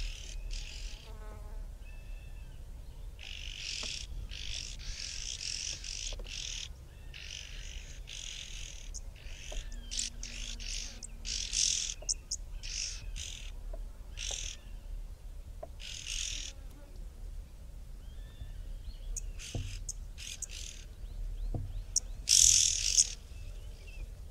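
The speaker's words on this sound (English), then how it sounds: "red-billed oxpeckers calling overhead as they were flying in a flock" Red-billed oxpeckers call overhead while flying in a flock, giving repeated hissing bursts and short staccato contact notes that come and go over a quiet background, with insect buzzing mixed in.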